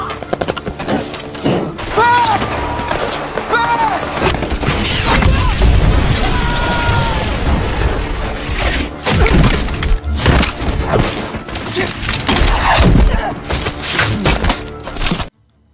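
Battle soundscape of gunfire and RPG explosions among rocks, loud heavy booms and crashes mixed with bursts of shots and clattering debris, dense and chaotic throughout before cutting off abruptly.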